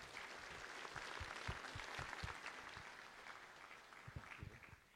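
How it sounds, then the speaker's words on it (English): Audience applause at a 3MT Singapore 2017 event, thanking helpers; steady faint clapping from a crowd lasting throughout, tapering slightly at the end. "Let's give a big round of applause to everybody who has helped out."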